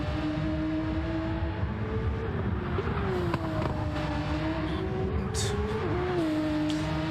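A race car at the Nürburgring drifting through the Schwalbenschwanz corner during 24-hour qualifying, its engine droning steadily and loudly with small pitch dips and rises as it works through the bend.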